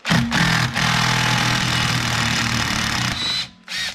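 Torx bit in a powered driver undoing the brake disc retention screw on a Nissan Skyline R32, a loud steady whirring buzz running for about three seconds, then a short pause and a final brief burst.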